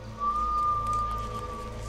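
A single thin whistled tone is held for about a second over a low background hum.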